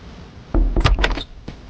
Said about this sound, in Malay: Serius real dia bunyi ketukkan